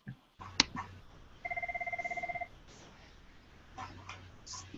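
A telephone rings once with a steady electronic trill lasting about a second, fairly clear over a quiet room with faint background noise and a few soft knocks.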